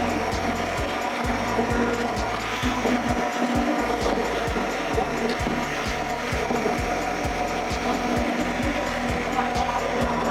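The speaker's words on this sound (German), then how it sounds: "Dann nehmt ihr den Stabmixer und los geht's." An immersion blender purees carrot ginger soup with cream, giving a steady loud whirring grind broken by rapid rhythmic clicking as the blade churns without pause.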